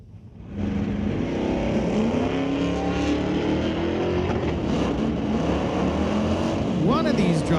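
Drag race cars launch at a raceway in an NHRA Northwest National Open Series event, among them a 1998 Camaro with a 6-liter LS V8, a loud sustained roar that holds steady as they run, while an announcer talks over it.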